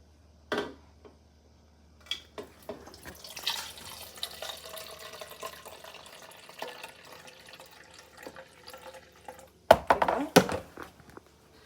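Warm water is poured into a cup in a home kitchen, a soft rushing splash among scattered clinks, taps and knocks of cups and utensils, close and moderately quiet, ending with a few louder clatters.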